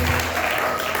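A congregation at an Easter family-gathering service in a Bethel Tabernacle church gives a short burst of applause, steady and fairly loud for about a second.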